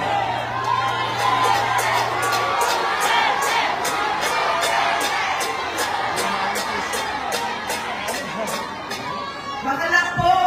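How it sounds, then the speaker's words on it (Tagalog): Rally crowd in Manila chanting and shouting the name Duterte, a dense roar of many voices that stays loud and continuous, with rhythmic chant bursts throughout. "Ang sigaw ng mga tao ay Duterte."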